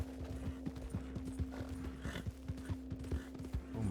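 Rhythmic hoofbeats of a ridden horse in Red Dead Redemption 2, played on the WildRP server, clopping steadily at a brisk gait with a constant low tonal hum underneath.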